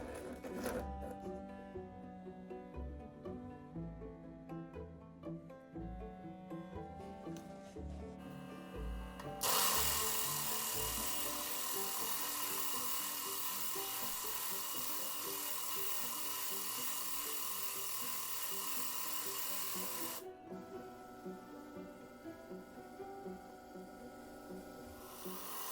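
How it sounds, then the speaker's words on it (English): A stone is ground flat on an 8 inch Hi-Tech flat lap, a steady motor hum under rubbing, gritty scraping, with a louder, brighter hiss of grinding in the middle stretch. "all I'm gonna do is grind this thing down flat while moving it around a little bit"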